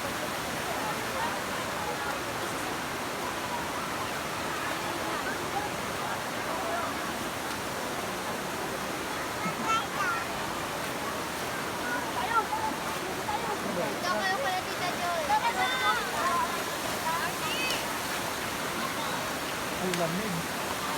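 Water rushes at a waterfall at Caunayan Falls in Baler, Aurora, a broad continuous roar and hiss, with people talking and calling out faintly beneath and over it at moments.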